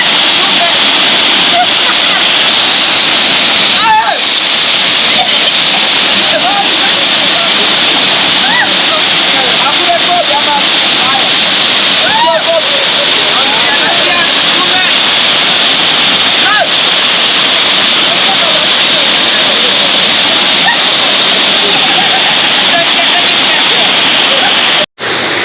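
A waterfall, a loud continuous roaring rush of falling water that stays dense and unbroken, heard up close, with faint voices now and then beneath the roar.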